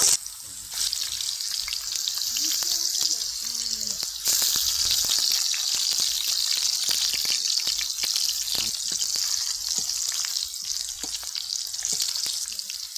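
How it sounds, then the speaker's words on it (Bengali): Homemade potato chips sizzle and crackle steadily in hot oil in a wok, a dense bright hiss with occasional pops and faint stirring clinks, close and continuous. "কড়াইতে তেল গরম করে নিছি এখন চিপসগুলো এক এক করে দিয়ে দিব"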